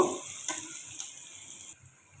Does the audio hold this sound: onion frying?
yes